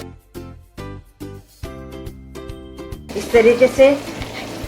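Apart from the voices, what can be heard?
creamy curd stirred into frying smoky chicken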